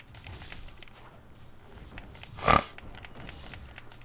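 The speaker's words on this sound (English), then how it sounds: "I'm gonna be sniffling a little bit." A single quick nasal sniff from someone suffering seasonal allergies, one short sharp burst standing out over quiet background sound, with no talk.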